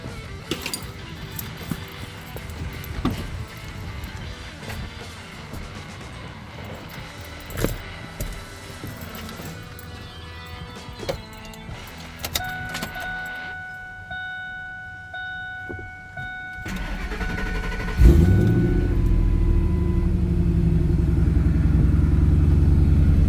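Keys jangling and clicking in the ignition of a Ford Lightning truck, then the engine cranks and starts, settling into a steady loud idle for the last few seconds.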